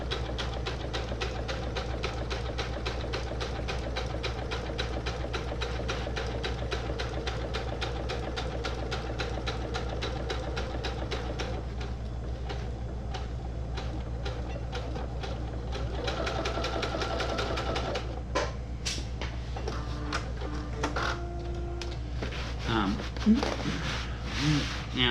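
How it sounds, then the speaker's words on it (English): A sewing machine stitches a fishing rod tube cover in steady rapid bursts over a constant motor hum, pausing briefly partway and resuming with a few clicks and clunks near the end. "when I need to raise and lower my pressure foot, I do it from the button on the front of the machine."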